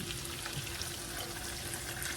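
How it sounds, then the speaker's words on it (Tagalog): A steady stream of water pours and splashes into a cooking pan for a couple of seconds, fairly loud and continuous, with no voices. "Lagyan ng tubig"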